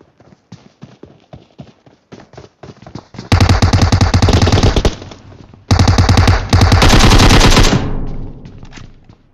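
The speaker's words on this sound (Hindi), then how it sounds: "कर कर फायर कर फायर कर" Gunfire in the video game PUBG Mobile: scattered single shots at first, then two loud, long bursts of rapid automatic fire, close and dominant, the second tailing off.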